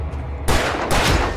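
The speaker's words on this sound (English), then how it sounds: "We're gonna use the flare gun." Flare gun fired in the video game Alan Wake Remastered, a loud burst followed by a second sustained blast of crackling noise, close and with no talk.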